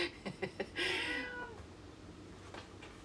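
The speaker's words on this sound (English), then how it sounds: "I've got to do something about this cat." A male house cat meowing indoors: a few short chirps, then one long drawn-out meow, close and fairly loud, with no talk over it.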